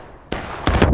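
Civil War muskets fire a volley in War of Rights, with one sharp crack followed by a ragged burst of several overlapping shots, loud and close.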